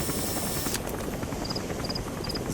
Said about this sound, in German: Da fliegt unser Heli.